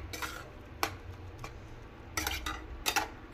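A metal spoon stirs milkmaid and sugar into carrot halwa in a pan, scraping and clinking in a few sharp, irregular strokes against a quiet background.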